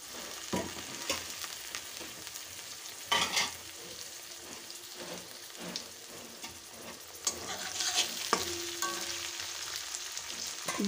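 Chopped tomatoes hit a pan of frying mutton curry with potato, bringing a steady sizzle broken by scraping stirs and bursts of louder frying.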